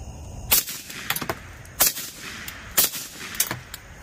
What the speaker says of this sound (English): First up is going to be the shots with the camera light on. All right, now a couple in the berm.